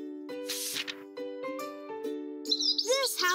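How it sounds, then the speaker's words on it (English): A cartoon bird chirps happily in the Arthur: Animal Home Builder flash game, a run of bright, clear tweets and whistled trills up close with nothing else behind them. "The bird is really happy."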